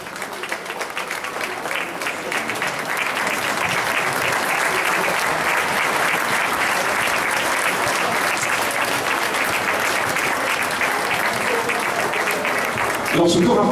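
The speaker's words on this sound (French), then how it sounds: "Sous vos applaudissements, s'il vous plaît, l'entrée." Loud, sustained applause from a crowd greets the entrance at a karate ceremony, a thick continuous roar of clapping lasting many seconds at steady intensity.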